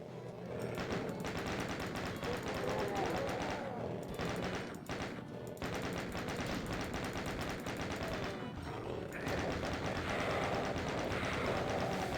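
Rapid, continuous gunfire from a chaingunner in the video game Final Doom, dense crackling shots mixed with in-game blasts and thuds, sustained loudly for most of the stretch with only brief dips.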